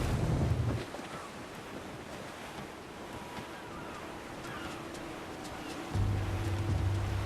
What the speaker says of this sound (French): Le vent a forci.